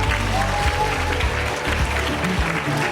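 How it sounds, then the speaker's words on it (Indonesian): Students at a junior high school session on democracy and elections in Banda Aceh applaud, a steady wash of clapping under a low background hum and faint murmur of voices. "Oke, tepuk tangan."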